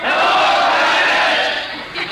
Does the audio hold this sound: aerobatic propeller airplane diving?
no